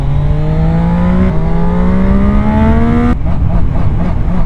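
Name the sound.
Zontes 703 RR three-cylinder motorcycle engine revving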